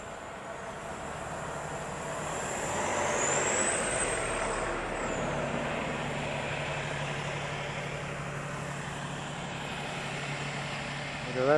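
A big diesel Newmar motorhome rolls past at an RV lot, its engine rumble and tire roar swelling to a peak midway and then fading, with a hiss of air brakes near the start and a long steady drone afterward.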